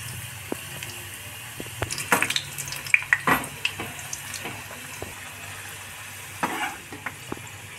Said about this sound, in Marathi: हे मोदक तळण्यासाठी आपण तूप घालून घेतलं याच्यामध्ये 2 चमचे